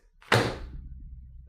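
A single hard thud as an object is set down heavily on a desk, sharp attack followed by a short fading rumble, close and alone.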